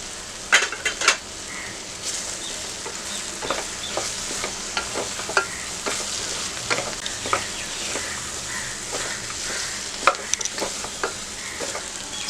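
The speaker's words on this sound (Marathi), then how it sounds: "सोया चंक्स चांगले मसाल्यामध्ये 1 मिनिट परतून घेतले आहे।" Soya chunks are stir-fried in a masala of turmeric, Malvani red masala and coriander in a single pot, with a constant sizzling hiss under repeated scraping spatula strokes and light metallic clinks against the pan.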